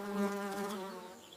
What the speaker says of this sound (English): Buzzing, buzzing everywhere, working hard with love and care.